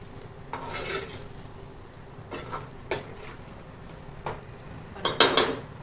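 Karandi shrimp being stirred and roasted in masala in a pan for a fresh karandi curry, with a steady low sizzle under a series of scraping spoon strokes and clinks against the pan, louder near the end.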